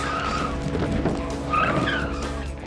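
Tires squeal and skid as a car brakes hard and swerves on a test track, a loud continuous screech over engine noise with no talk.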